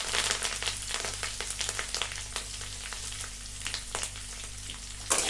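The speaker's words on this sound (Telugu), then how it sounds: "ఇప్పుడు ఉల్లిపాయ వేసేసుకోవాలండి." Onion and curry leaves frying in a hot pan, a steady dense sizzle with crackling pops throughout, close and fairly loud, with a low steady hum underneath and a sharp clatter near the end.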